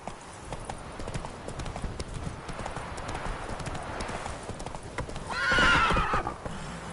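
Horse hooves gallop in a steady, brisk clip-clop in The Witcher 3, with a loud whinny rising near the end.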